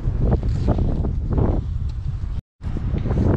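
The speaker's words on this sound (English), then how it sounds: "It's sunny but it's cold and windy. It's windy here and cold." Cold wind buffets the microphone on a sunny day in Iceland, loud gusty rumbling that rises and falls, with a brief dropout near the end.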